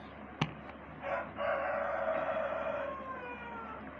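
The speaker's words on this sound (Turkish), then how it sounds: "Buradaki horozlar da ne çok ötüyor." A rooster crows once, a long drawn-out call a short distance away, following a sharp click, with faint ambient noise underneath.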